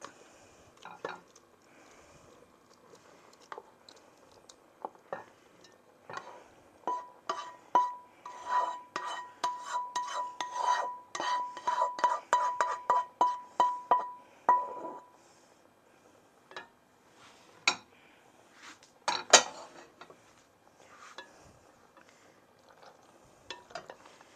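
Metal utensils scrape and clatter against a pan and dish as food is added to pasta, a long run of quick, close taps and rasps with short pauses and no talk.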